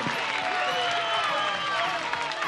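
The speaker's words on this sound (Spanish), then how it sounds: "Fuerte el aplauso." Dense applause rises from a crowd on a live show, steady and fairly close, with excited voices mixed into the clapping.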